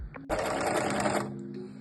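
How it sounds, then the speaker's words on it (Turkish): An overlock serger stitches fabric edges while hemming trouser legs, a steady close mechanical whir that starts abruptly after a brief click, runs for about a second at full speed, then slows and quiets. "Kestiğim yerlerden overlockla geçtim."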